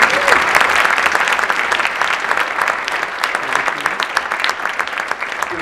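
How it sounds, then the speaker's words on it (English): Dense, sustained applause from a large crowd at an MLK Day celebration, loud and steady throughout with no individual voices standing out. "let's give them a big round of applause"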